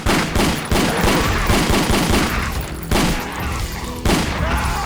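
Enemy gunfire in the video game Ashes: Dead Man Walking comes as a dense barrage of loud, rapid shots, bursting repeatedly in waves with brief gaps, close and overlapping.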